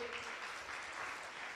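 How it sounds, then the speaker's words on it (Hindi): Quiet, even applause from a gathered audience at a religious community event, a brief soft patter of many hands that sounds somewhat distant and faint. "जोरदार तालियां बजाएंगे।"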